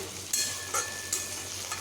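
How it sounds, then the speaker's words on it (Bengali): Potatoes fry in a pan with a soft continuous sizzle broken by a few sharp scrapes of stirring, close and fairly quiet. "আমি এইরকমই ভাজা ভাজা করলাম আলুগুলোকে"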